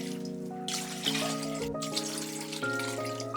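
Four cups of water poured from a vessel into a soup pot for Japanese ozoni, a steady close splashing gurgle with shifting pitch as the pot fills, continuous and fairly loud, with no voices.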